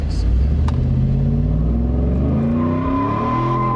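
A Roush Ford Lightning pickup truck holds a loud, steady engine roar as it spins and smokes its tires, a rising whine building toward the end over a continuous rumble.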